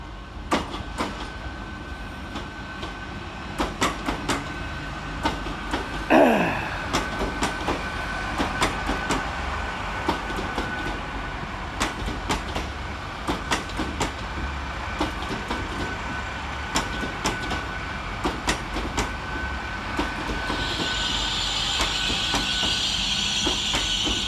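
A Great Western Railway train pulls into Worcester Shrub Hill station with a steady rumble and repeated clickety-clack of wheels over rail joints, a brief squeal midway and a rising hiss toward the end, heard alone on the platform.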